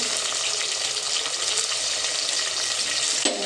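A tomato frying in a clay pot while fish curry is being made, giving a steady, dense sizzle that runs unbroken and close for the whole stretch, with a faint clink near the end.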